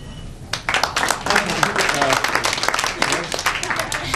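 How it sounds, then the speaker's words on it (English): Comedy club audience at Carolines applauding in dense, loud bursts of clapping that swell and flicker for several seconds, with voices mixed in. "Who's married by applause?"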